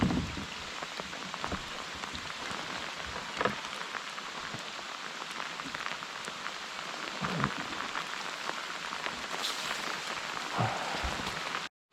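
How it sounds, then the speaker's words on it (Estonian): Heavy rain pours steadily during a fishing outing, a dense continuous hiss of drops on water and surfaces with a few louder splashes, constant and close throughout with no voices. "Vihma tuleb nagu oavarrest"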